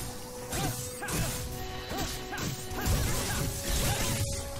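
Sword combat in the PS2 video game Rogue Galaxy, a rapid series of loud whooshing slashes and heavy crashing impacts in an uneven rhythm over a dense bed of game sound, with no speech.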